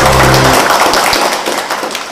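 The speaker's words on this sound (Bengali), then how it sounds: "আর একবার হাততালি।" A crowd applauding at a company event, a dense wash of clapping that starts loud over a low hum and gradually thins and fades over about two seconds.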